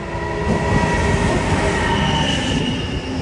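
A passenger train on the line from Brno to Bohumín rolls past close by, a loud continuous rumble of wheels on rails with thin wheel squeals and a steady mechanical hum, and no voices.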